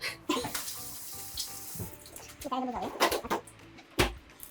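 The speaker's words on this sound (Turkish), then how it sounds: "Ellerimi yıkayayım mı?" Hands are washed under a running kitchen tap, water splashing and gushing in uneven bursts at close range, with brief clattering and some background noise.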